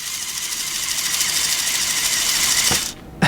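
A CaDA C51043W building-block RC buggy, rear-wheel drive with a two-piston motor, whirs in a steady, close, buzzing drone that cuts off abruptly near the end.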